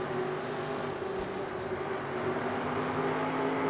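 Race truck engine heard on board in a racing video game at the Lucas Oil 150, a steady, loud, dense drone held at constant pitch throughout with no talk.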